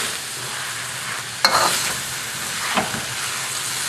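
Wedge-cut onions stir-fry in a wok with tossed eel, a loud steady sizzle broken by a few sharp scrapes and tosses, no voices.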